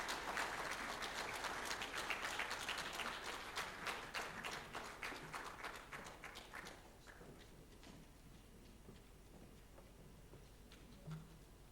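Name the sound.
audience applause after a lecture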